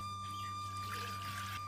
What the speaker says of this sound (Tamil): அதுக்கு வந்து பார்த்தீங்கன்னா 6 டம்ளர் தண்ணி ஊற்றிக்கலாம்.